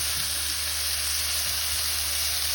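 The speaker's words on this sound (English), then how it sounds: "that I'm basting it" Spicy chicken thighs in a cast iron skillet, basted with hot fat: a loud, dense, continuous sizzle and crackle, steady throughout and close up.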